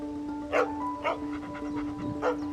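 Dogs pant and let out a few short, muffled barks at a moderate distance, spaced about half a second apart over a steady background hum.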